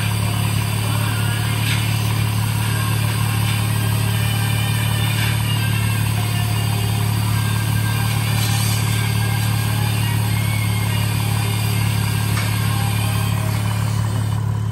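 Engine of a heavily tuned 1000 hp car, a loud, constant low rumble at steady idle running unbroken from start to finish, close by, with no voices.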